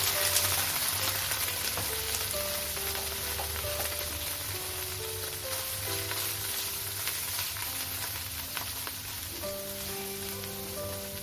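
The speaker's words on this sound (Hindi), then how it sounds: "बिल्कुल थोड़ा सा ऑयल डाला है मैंने। पनीर डाल देती हूँ इसमें मैं।" Paneer fries in a small amount of oil in a pan, a steady, close, dense sizzle with constant crackling and light popping that continues without a break, with no talking over it.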